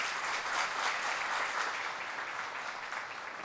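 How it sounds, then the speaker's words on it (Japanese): Sustained audience applause at a women's professional bowling all-star tournament final, steady and dense throughout, filling the hall without any talk over it. "松尾聖果にも大きな拍手を送ってください"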